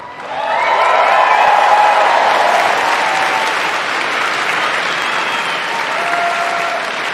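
A live show audience bursts into loud applause that swells within the first second and then holds as dense, sustained clapping, with scattered cheering mixed in.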